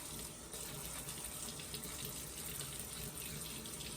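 Steady water running from a kitchen tap, a continuous even gush with no breaks, close and fairly loud, with no voices.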